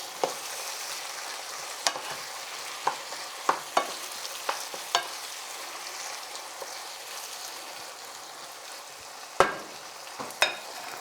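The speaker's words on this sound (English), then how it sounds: "And stir." A spoon stirring chicken stew in a pot, with soft scraping and scattered clinks against the pot over a gentle continuous simmering sizzle, no voices.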